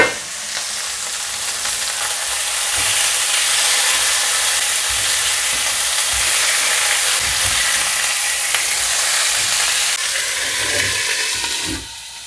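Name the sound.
fish frying in a worn Teflon pan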